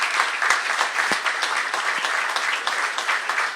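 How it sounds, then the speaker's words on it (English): An audience gives dense, steady applause for Rod Langway at a MedStar Health and Monumental Sports event, the clapping close and continuous throughout with no pauses. "Let's a nice round of applause for Rod Langway's made it up here."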